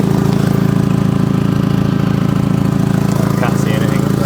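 An Audi TT engine idles with an exhaust leak blowing near the front downpipes, giving a loud, close, steady rhythmic chuff and drone with no talk over it.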